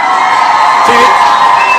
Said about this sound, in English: Ladies and gentlemen, let's give the BS a round of applause.